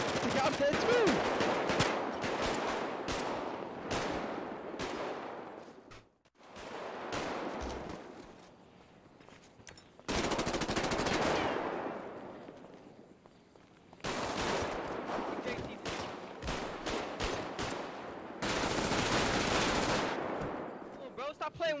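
Gunfire in the GTA 5 video game during roleplay: long automatic bursts and rapid volleys, loud and close, separated by brief pauses across the whole stretch, with no talking.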